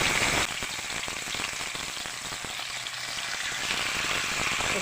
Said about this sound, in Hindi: बस इसको शैलो फ्राई करेंगे।